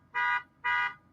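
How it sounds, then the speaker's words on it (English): An alarm beeps in a steady repeating pattern, loud sustained electronic tones of about a quarter second each, separated by short gaps, sounding alone with no voices. "We've got an alarm going off somewhere."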